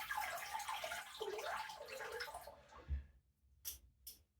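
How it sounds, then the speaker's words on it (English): Water runs in a steady broadband wash over an aluminium Natu razor as it is rinsed, stopping abruptly partway through, followed by a few brief knocks and short clattery bursts as it is shaken. "Give it a rinse and a shake and the blade stays in place."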